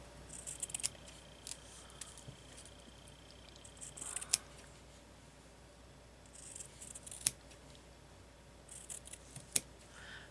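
Scissors snip paper into strips, a handful of faint crisp cuts scattered across quiet room tone, each a short close slicing crunch with longer gaps between.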